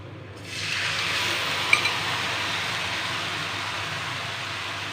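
Spice paste hitting browned fried onions in a pan for Bangladeshi shorisha ilish, bursting into a loud, steady sizzle that holds with a brief clink of stirring.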